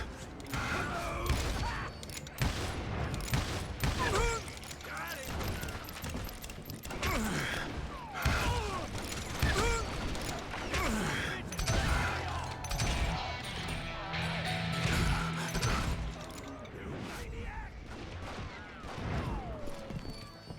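Dense, sustained gunfire from a large band of hired guns in the Western shooter Call of Juarez: Gunslinger, with volleys and shots crowding one another over about twenty seconds amid clattering mechanisms and crashes.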